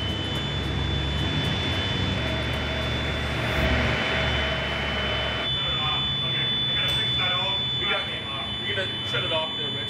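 A carbon monoxide tester alarm beeping steadily during an engine emissions test, a shrill continuous tone over loud engine roar and broadband noise, with voices talking now and then.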